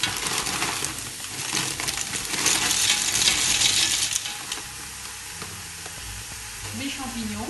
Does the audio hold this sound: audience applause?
no